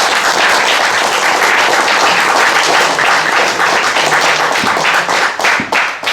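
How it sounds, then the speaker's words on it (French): Listeners at a Patriotes du Rhône conference applaud speaker Philippe Murer, who is there to talk on immigration and the European Union. The clapping is loud, close and dense, with a few sharper individual claps standing out as it thins near the end. "Vous pouvez l'applaudir pour ça."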